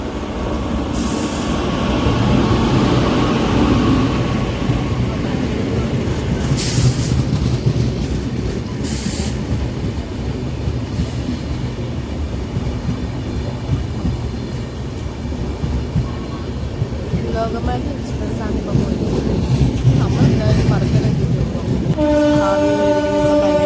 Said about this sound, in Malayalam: ഏതോ ട്രെയിൻ വരുന്നു